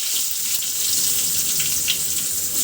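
Chopped onion hits hot oil in a pan for a vegetarian pumpkin dish with panch phoron, giving a loud, steady hiss and crackle that runs unbroken throughout.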